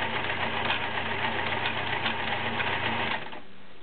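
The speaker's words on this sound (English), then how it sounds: "you're doing a rickrack, which is a stretch zigzag. You can see the fabric moving up and back." A vintage 1941 Kenmore convertible sewing machine runs steadily, stitching a rickrack stretch zigzag with a close, even mechanical whir and rapid needle rhythm that stops near the end.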